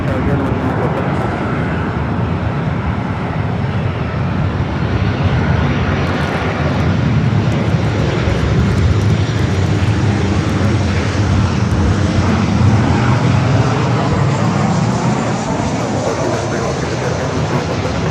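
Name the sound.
airliner jets at Los Angeles LAX airport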